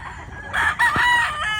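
A rooster, a young gamecock stag, crows once, near and loud, its drawn-out call rising and holding before trailing off, with no talk over it.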